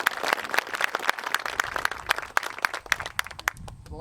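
An audience at a library groundbreaking gives board members a round of applause, with dense, steady hand clapping that carries on evenly and thins slightly toward the end.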